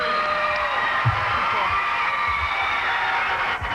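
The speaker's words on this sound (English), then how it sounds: "Crowd not real happy about that." Large arena crowd at a 1993 Virginia state wrestling individual finals, a broad continuous roar of many voices with scattered shouts and jeers, loud and sustained throughout.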